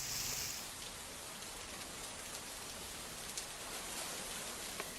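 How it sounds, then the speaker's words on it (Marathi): Heavy monsoon rain pours steadily in Raigad district, a dense, even hiss of rainfall on surfaces with occasional louder drops, heard alone without voices. "तिकडे रायगड जिल्ह्याला मुसळधार पावसानं झोडपून काढलंय"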